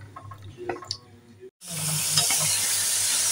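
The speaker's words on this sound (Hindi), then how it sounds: "अब मैं चिकन को फ्राई करूंगी।" Chicken pieces frying in about a cup of oil in a pan: after a second and a half of quiet clinks, a loud, steady, broadband sizzle bursts in and holds, with occasional spatters.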